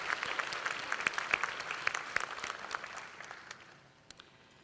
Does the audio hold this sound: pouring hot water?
no